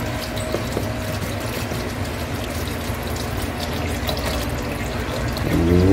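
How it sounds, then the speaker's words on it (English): Water pouring from a tap into a cooking pot of soaking peas for Jamaican rice and peas, a steady close rushing splash lasting several seconds and swelling louder at the end. "So, I'm gonna add some more water to it."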